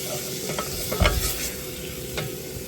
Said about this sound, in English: That's what you want, the onions cooked right down like that.